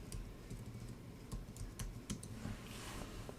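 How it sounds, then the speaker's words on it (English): Rapid keyboard typing in a quiet room, a string of sharp close key taps with a brief uneven rhythm while a search term is entered on a website. "Basically here we're gonna type Ryobi."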